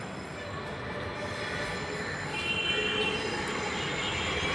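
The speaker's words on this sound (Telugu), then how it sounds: "మెట్రో బాగా తిరుగుతుంది ఇక్కడ హైదరాబాద్లో, నిమిషానికి మెట్రో తిరుగుతుంది చూడు" A Hyderabad metro train rumbles past steadily at close range, with a continuous roar and a faint high squeal from the wheels, growing slightly louder toward the end.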